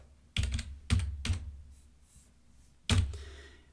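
Python code is typed on a computer keyboard: four distinct, fairly quiet key strikes land at uneven intervals, with a longer pause before the last, and no voice is heard.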